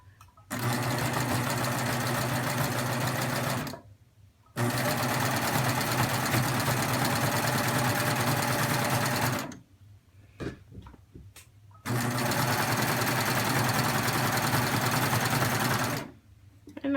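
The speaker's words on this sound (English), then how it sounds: "I'm just top stitching like I would do with a crew neckline, except that I'm starting in the front, not in the back." A sewing machine top stitching a V neckline on fabric, running in three loud sustained bursts separated by short pauses, close and alone.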